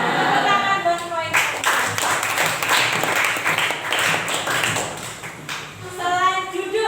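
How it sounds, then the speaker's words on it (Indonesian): Students in a classroom clap together for several seconds, a loud, ragged burst of hands that rises after a teacher speaks and fades as talking resumes. "Tepuk tangan buat poin."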